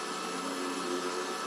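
A handheld sanding machine spins freely while a rag is pressed onto its sandpaper to clean it, during car headlight restoration. A steady, close, loud motor whir with a broad grinding hiss holds unchanged throughout, with no voices.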